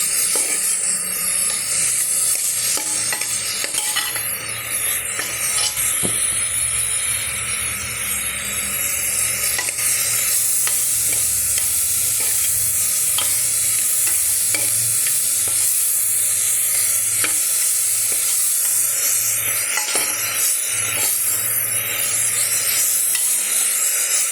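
Sliced onions sauté in a hot pan with a pinch of salt, a steady dense sizzle with occasional stirring scrapes running throughout, loud and close.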